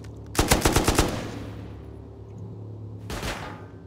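An auto turret in the video game Rust fires a rapid, close machine-gun burst of about eight shots, then a fainter second short burst follows a couple of seconds later.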